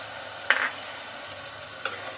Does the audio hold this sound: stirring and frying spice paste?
yes